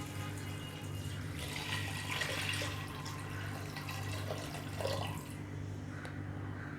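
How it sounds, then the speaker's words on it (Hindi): Water pours steadily into a cooking pot for dal, a continuous rushing splash over a low kitchen hum that carries on for several seconds, with no one speaking. "इसमें अब पानी ऐड कर रहे हैं।"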